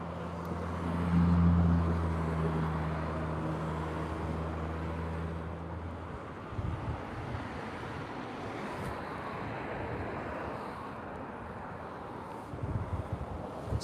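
A car drives along a road in poor weather, first with a steady low engine hum and then a broad, even rumble of road and wind noise, with no talk.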